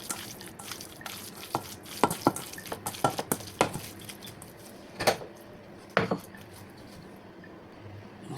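Ground meat mixed with seasoning in a bowl for meatballs gives soft, wet squelches and irregular sticky slaps, close and fairly quiet, with a few louder smacks against the bowl.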